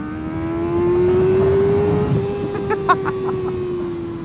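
Sport motorcycle engine, such as a Kawasaki Ninja 650, ZX-6R or Honda CBR650R, drones steadily under a rider, its pitch rising slowly as it revs, with a short sharp blip near the end.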